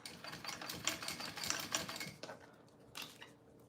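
A sewing machine stitches straps onto a small bowler bag in quick rattling bursts, running steadily for about two seconds, pausing, then giving a brief final run before falling quiet.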